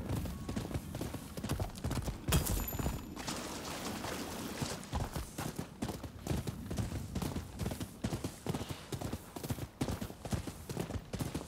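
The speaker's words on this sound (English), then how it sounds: "Go, my noble steed!" Horse hooves in the Rise of the Ronin video game clip-clop in a fast, continuous galloping rhythm, loud and close, with a brief whinny early on and no talking over it.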